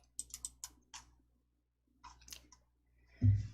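A computer mouse double-clicks to open a file: sharp little clicks in quick pairs, close and quiet, followed by another short burst of clicks and a soft thump near the end.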